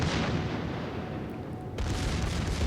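Battleship secondary guns firing in World of Warships, a US Colorado-class battleship's batteries going off in a naval game battle, a dense, continuous roar of rumbling gunfire and booms that briefly thins before swelling again.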